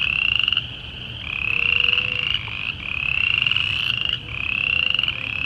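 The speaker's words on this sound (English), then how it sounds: "I hear the spring peepers over there." Spring peeper frogs call outdoors in a park on a March morning, a dense chorus of high, shrill peeps rising and pausing in repeated waves, loud and close, with no voices.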